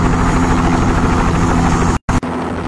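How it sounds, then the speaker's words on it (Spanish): A helicopter flies over a rescue operation, its loud, steady rotor and engine roar filling the air almost without pause, broken only by a brief cut near the end. "Ya el helicóptero pues saldrá de nuevamente para ir a traer más integrantes de la familia."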